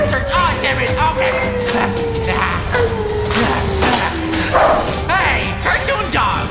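A cartoon dog in a horror video game gives repeated yips and barks over a descending electronic tone and scattered game effects.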